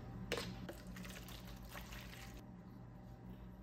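Water runs faintly into a rinse bath prepared for zinc plating, a soft, steady trickle and splash heard at low level for a few seconds.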